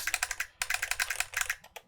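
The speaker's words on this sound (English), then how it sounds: "That keyboard is so loud." Rapid keystrokes on a loud mechanical keyboard, clacking in quick bursts with a brief pause midway, close and alone with no talking.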